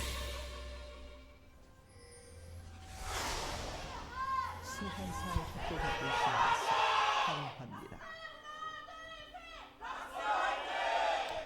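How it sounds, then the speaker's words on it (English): A crowd at a League of Colors LCK Spring Split esports match between MVP and ROX Tigers cheers and shouts, rising into a loud sustained roar, with commentators talking over it. "that MVP cheer was louder than I think either of the cheers in the first series"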